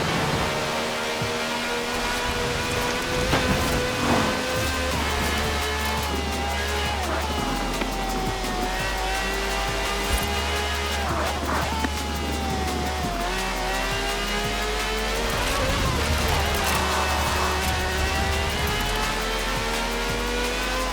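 A V12 engine of over 750 horsepower driving in Forza Horizon 4, steady loud harmonic drone rising through gears with repeated shifts, a continuous close engine roar throughout.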